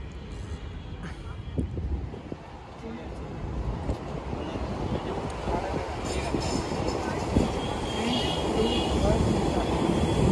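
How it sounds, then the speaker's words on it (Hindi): A metro train runs past outdoors in a city, a broad, steady rumble that grows gradually louder over several seconds amid general street noise, with people talking in the background. "आप इधर देख सकते हो मेट्रो भी जा रही है।"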